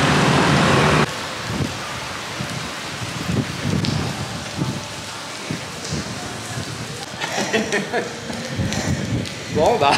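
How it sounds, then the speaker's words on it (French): Rain falling outdoors in Thailand, a dense hiss of drops on surfaces that is loud at first and then patters more unevenly, with people talking over it. "Bon bah la pluie est là."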